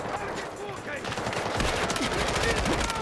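Rapid bursts of SMG fire in the video game Delta Force crackle continuously, growing denser and louder midway, with a background rumble and no pauses.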